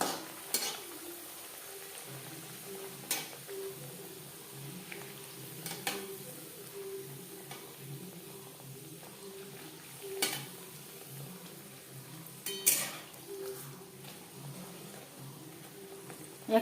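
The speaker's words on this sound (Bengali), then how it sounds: "কচুরি ভাজবো মিডিয়াম ফ্লেমে।" Vegetarian chana dal kachuri fry at medium flame in hot refined oil, a soft steady sizzle broken by occasional sharp clinks and scrapes of a utensil against the pan.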